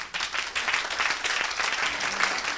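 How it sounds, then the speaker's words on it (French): A church congregation claps and cheers for the Lord in sustained, dense applause that fills the space evenly from start to finish, with no pauses or gaps. "Clap for the Lord."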